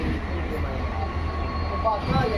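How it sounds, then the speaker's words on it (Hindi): A WDP 4D diesel locomotive hauling the Rewari–Bikaner passenger train rumbles into Rajaldesar railway station, a steady low diesel drone with rolling wheel noise and faint squeals, moderately near. "WDP 4D लोकोमोटिव के साथ आ रही है 54789 रेवाड़ी बीकानेर पैसेंजर राजल देसर रेलवे स्टेशन पर"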